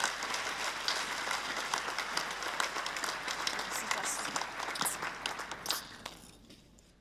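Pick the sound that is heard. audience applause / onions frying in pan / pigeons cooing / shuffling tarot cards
audience applause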